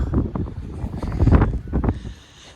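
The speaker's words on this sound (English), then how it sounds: "It's windy, yeah." Gusty outdoor wind buffets the microphone with loud, rumbling bursts that rise and fall over a couple of seconds, then ease into a softer whoosh.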